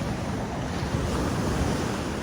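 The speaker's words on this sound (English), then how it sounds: "these waves are crashing" Ocean waves crashing on a beach, a dense continuous roar of surf mixed with wind buffeting the microphone, close and steady without pause, and no voices present.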